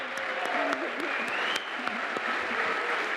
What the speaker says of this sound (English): An emotional moment as U.S. lawmakers applauded the leader of Ukraine